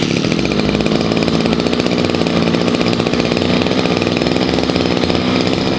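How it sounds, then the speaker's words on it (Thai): A small petrol brush cutter engine runs nearby with a loud, steady buzzing drone that holds a constant pitch throughout. "ตอนนี้เครื่องตัดหญ้าผมก็สบายครับสตาร์ทติดง่าย"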